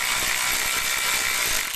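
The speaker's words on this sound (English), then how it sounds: "Take your 7mm and you're just going to unscrew them." Ratchet with a 7mm socket unscrewing screws from a 2008 Chevrolet Cobalt turn signal switch, a rapid continuous clicking of the pawl heard close up for under two seconds, no talking.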